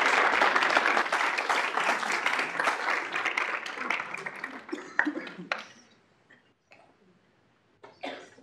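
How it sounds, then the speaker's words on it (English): Applause at a student involvement event for the judicial branch, a crowd clapping loudly that thins out after about five seconds into scattered claps, a cough and faint room noise. "could we give a round of applause to our judicial branch for helping us out?"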